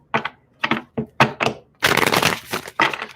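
A deck of cards is shuffled by hand in a series of sharp riffling bursts, several short flutters followed by a longer continuous riffle and a final burst, close and clear with no talk.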